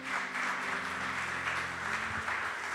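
A church congregation gives the Lord a strong round of applause during a Spanish-language sermon, a steady dense clapping of many hands that holds evenly throughout and sounds somewhat distant in the room.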